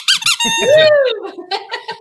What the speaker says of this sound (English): You get a squeaky for that.